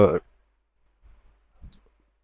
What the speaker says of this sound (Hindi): यहाँ पे मैंने क्लिक किया और चूज़ फाइल पे मैं क्लिक करूँ